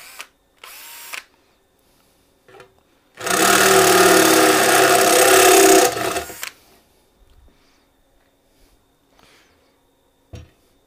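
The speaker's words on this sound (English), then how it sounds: "Let's go up to the drill mode." A power drill reaming a hole whirs loudly and steadily for about three seconds, between short bursts and clicks of handling nearby, then stops.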